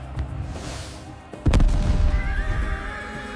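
Frightened horses neigh and whinny loudly in a dramatic battle scene set during the Mongol wars, a sharp burst of neighing after a heavy boom, with rumbling and hooves continuing beneath.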